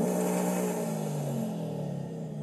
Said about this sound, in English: Oh yeah, that is definitely the same Subaru Impreza Boxer.